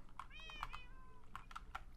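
A Minecraft cat gives a short, faint meow, followed by light keyboard clicking.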